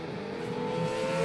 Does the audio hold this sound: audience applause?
no